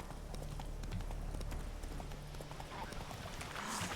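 Horse hooves clip-clop in a steady trotting rhythm in The Witcher video game, with game music and faint talk in the background.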